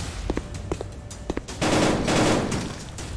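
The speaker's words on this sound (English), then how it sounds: "I'm shooting Jason over there" Gunfire in a VR shooter video game: a few sharp single shots followed by a dense burst of rapid automatic fire, loud and close.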